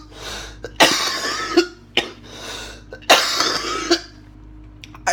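Two bursts of harsh coughing, each a cluster of rough coughs with a short pause between, loud and close, with no talking.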